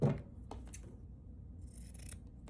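Scissors snipping craft material, a few quick soft cuts and rubbing sounds close by after a brief thump, no voices.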